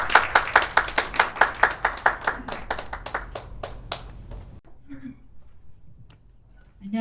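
An audience at an academic conference session claps to welcome a company CEO as speaker, clear rhythmic claps that thin out and stop, followed by near silence and faint movement.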